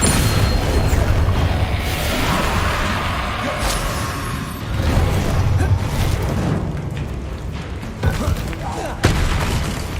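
Booming magic spell blasts from the Descendo cast in Hogwarts Legacy, a dense run of loud thuds and bursts with sharper cracks near the end, mixed in with other spell effects and shouted incantations.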